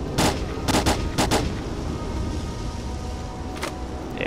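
Gunfire in the video game STALKER Call of Pripyat: a few sharp close bursts of shots in quick succession, then a lone later shot over a steady background rumble, with no talk.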